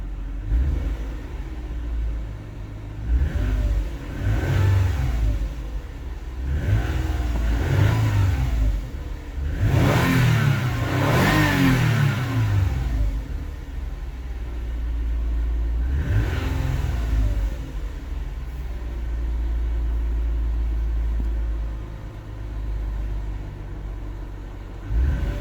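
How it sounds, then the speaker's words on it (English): A 2007 Toyota Sienna CE with a 3.5-liter 2GR-FE dual overhead cam V6 idles and is revved repeatedly. Several short rising-and-falling throttle blips build to one longer, louder rev, then a later sustained rise, all close up with no talking. "So let's go ahead and give it a few revs."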